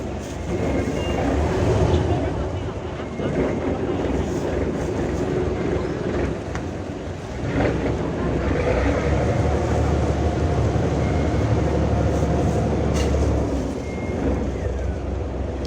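A river ferry crossing the water, its steady low engine drone rumbling continuously and fairly loud throughout, with people talking over it.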